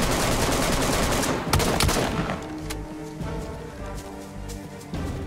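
Gunfire in DayZ, several sharp shots cracking over a dense, noisy backdrop, then thinning out into a rough rumble with a couple of fainter reports near the end.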